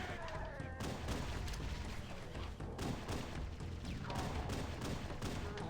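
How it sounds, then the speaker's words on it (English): Frag grenade blast in Halo: CE on Legendary difficulty, one heavy boom among a dense, continuous run of loud gunfire and explosions in combat, with no clear gaps. "if I throw a frag"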